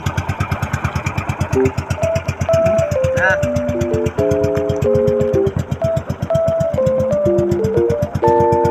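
A small boat motor chugs steadily with a fast, even putter, loud and close, while someone speaks briefly and a melodic tone plays over it.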